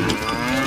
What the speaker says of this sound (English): The day passed, and Krishna returned home with all his cows.